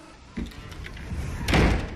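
A door in a horror film slams shut with a heavy thud, followed by a second, louder bang near the end over low rumbling ambience.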